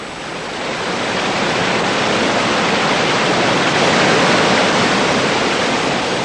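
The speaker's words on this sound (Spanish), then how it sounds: "El agua que fluye del suelo de bosques contiene gran cantidad de nutrientes." Water flowing out of forest soil near Mount Fuji, a dense, steady rushing wash that holds constant and loud throughout with no voices.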